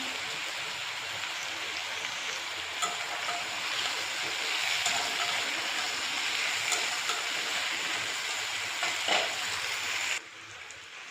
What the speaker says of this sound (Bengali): আলু পেঁয়াজটা ভালো করে একটু ভেজে নেব